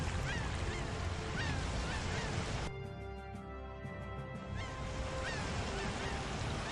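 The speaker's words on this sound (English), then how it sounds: "why are these seagulls so loud?" Seagulls cry by the sea in Tales of Vesperia, a loud, busy run of repeated squawks over a constant wash of surf. They drop away briefly midway and then return.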